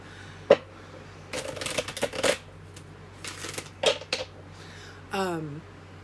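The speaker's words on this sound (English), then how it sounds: "Okay, one more time. I'm going to shuffle." Cards are shuffled in several quick riffling bursts, close and fairly quiet, with a brief voice near the end.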